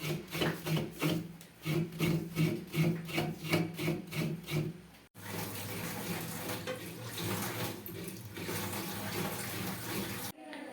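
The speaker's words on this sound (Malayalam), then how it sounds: "അമ്മ ഇവിടെ തേങ്ങ ചിരണ്ടിക്കൊണ്ടിരിക്കുവാണ്" Fresh coconut is scraped on a grater in a home kitchen, giving rhythmic rasping strokes that grow steady and continuous, fairly close, with no talk over it.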